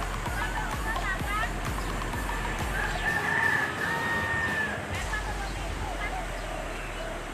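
Chickens cluck and a rooster crows outdoors behind someone talking, with ongoing background noise; the crow rises loudest around the middle.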